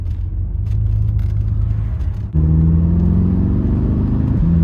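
BMW F10 M5 engine fitted with Project Gamma intakes, a steady deep rumble that jumps midway into a louder, richer drone with rising tones as it revs, close and continuous.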